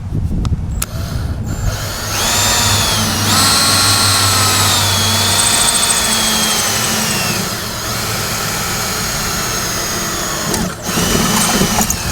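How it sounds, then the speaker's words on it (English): A power drill with a small bit whines steadily at close range, its pitch dipping and rising slightly as the bit bores in, then stops briefly and restarts. "I start with a smaller drill bit"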